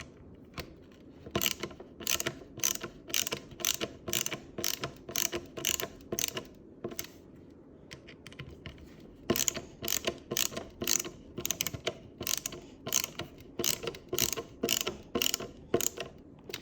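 Repeated ratcheting clicks from a hand wrench tightening bolts while assembling a school-age manger, in quick bursts of rapid clicks separated by short pauses, close and fairly loud, with no talking.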